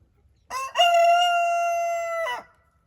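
A rooster crows once, loud and close, a single drawn-out cock-a-doodle-doo lasting about two seconds and heard alone.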